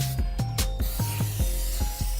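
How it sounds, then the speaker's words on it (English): Vegetable cooking spray hisses onto non-stick baking pans for a red velvet cake, a run of about ten short, close aerosol bursts in a quick, steady rhythm. "I'm gonna spray these with any little vegetable spray here that I have"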